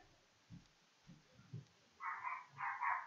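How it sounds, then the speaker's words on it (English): A house dog gives a few low muffled woofs, then sharper louder barks in quick succession at the end, close by in a quiet room. "Sorry, that is my dog. He wants to help."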